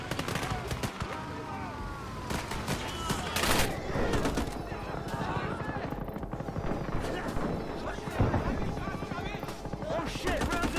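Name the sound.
gunfire and artillery in video game Gates of Hell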